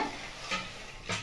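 An orange halwa mixture goes into a hot wok and is stirred, giving a soft, low sizzle with two quiet scraping strokes of the spoon.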